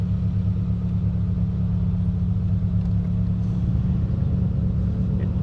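A 1999 Mitsubishi Eclipse GS Spyder cruises toward the highway, its engine a steady low drone under constant road rumble, heard from inside the car at an even level with no voices.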